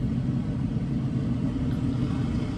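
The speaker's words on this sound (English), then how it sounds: "here comes the dump truck, or tractor, front loader" A steady low engine rumble from a dump truck or front loader passing nearby, heard from inside a car, continuous and fairly even in loudness.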